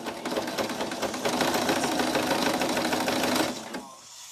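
A sewing machine runs steadily for about three and a half seconds, stitching the tips of fabric petals, its fast mechanical chatter loud and close before it stops and leaves a quiet tail.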